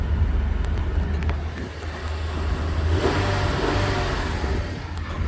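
A 2000 Nissan Maxima GXE with a 3.0 V6 idles steadily, then revs to a fuller, louder engine roar around the midpoint before settling back. The sound is close and continuous, with no talking.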